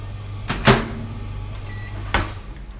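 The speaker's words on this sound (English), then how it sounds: "me check this microwave." A microwave oven hums steadily in a home kitchen, with a couple of sharp clicks or door knocks breaking the drone, close and without talk.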